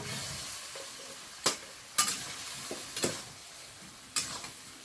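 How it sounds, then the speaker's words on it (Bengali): Potatoes sautéed with spices including Kashmiri chilli powder, stirred in a pan: soft frying hiss under sharp scraping clicks of a spatula against the pan, several separate strokes, close and fairly quiet, no talking. "আলুটা মশলার সঙ্গে আবারও একটু কষিয়ে নিয়েছি"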